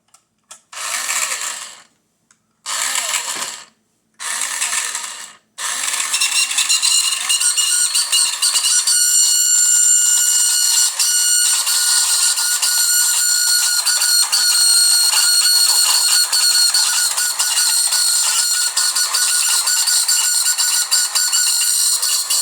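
A few brief bursts of buzzing sound, then the small motor of a 1984 Galoob toy car whines continuously and roughly at high pitch, rattling and unsteady throughout.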